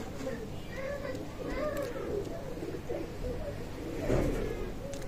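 Teddy pigeons of Oman bloodline coo in low, throaty rolling phrases close at hand, repeating through the scene while someone talks over them.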